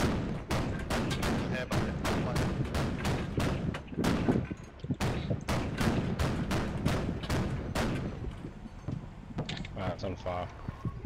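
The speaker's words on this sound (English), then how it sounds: "Struggling to hear you over that arty though." Rapid artillery fire booms in a video game, a loud, dense run of heavy blasts repeating about twice a second for the whole stretch, with a voice speaking underneath.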